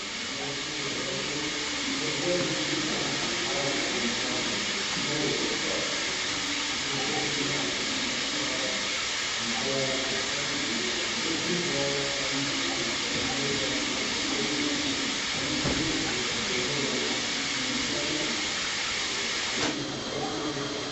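A Semitool 270-S spin rinse dryer with a small 3-inch rotor holding a 3-inch cassette spins steadily, giving a loud, continuous broadband whirring hiss with mechanical hum beneath, constant for the whole stretch before shifting near the end.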